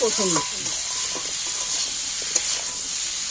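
Drumstick stalks frying in a pan for a fish curry, with a steady close sizzle and a few short stirring scrapes, partly under a voice at the start.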